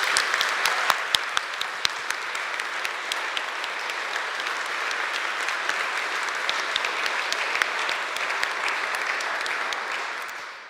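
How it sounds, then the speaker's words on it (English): Sustained audience applause at a TEDx event, steady dense clapping from a sizable crowd that holds evenly for about ten seconds before tapering off at the end. "Big applause to all the people."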